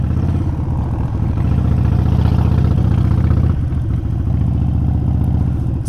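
A custom Harley-Davidson Sportster Forty-Eight runs close by with a loud, lumpy low-pitched idle, its steady mechanical clatter swelling slightly in the middle before settling back.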